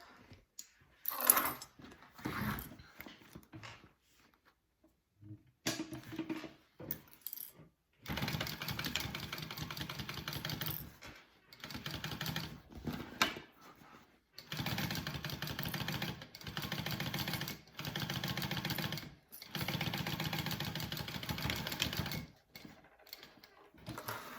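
A sewing machine stitches a Duffy bag in short repeated bursts of rapid whirring, separated by pauses where the fabric is adjusted, running close and fairly quiet.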